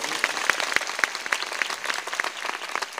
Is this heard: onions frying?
no